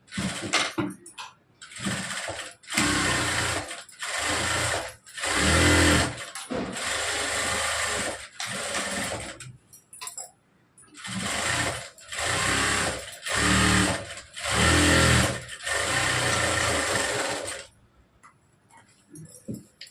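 A sewing machine stitching the side seam of a blouse, running in repeated loud whirring bursts of a second or two with brief stops between, some talk during the pauses.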